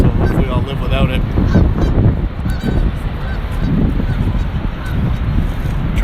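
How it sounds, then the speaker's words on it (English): A flock of geese honks loudly overhead near Niagara Falls, with overlapping raucous calls coming in rapid clusters against a steady roar of background noise. "Trying to catch those geese for everybody to see. I don't know if you can see them flying around."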